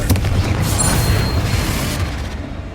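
A Confringo spell explosion in Hogwarts Legacy booms loudly and continuously with dense, rumbling low end, sustained across the moment as the blast and its debris roll on.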